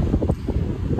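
Wind buffeting a microphone outdoors at a cottage, a steady low rumble with gusty swells over the full second, loud and close with no speech.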